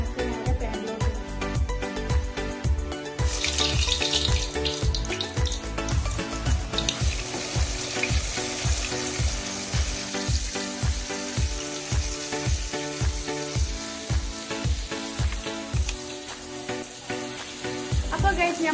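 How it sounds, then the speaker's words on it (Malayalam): Batter-dipped chicken pieces crackle and sizzle steadily in a hot pan while broasted chicken is made at home, a continuous frying hiss that runs under rhythmic background music. "ബാറ്ററി മുക്കി വെച്ച പീസസ് നമുക്ക് നേരെ പാനിലോട്ട് ഇടാം."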